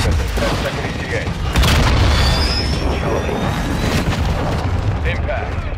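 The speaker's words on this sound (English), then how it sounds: "launching cruise missile. 10 second ETA." Cruise missile launch and impact in Call of Duty: Modern Warfare II, a loud sustained booming rumble with a jet-like whoosh and a heavy blast near the middle, under ongoing battle noise.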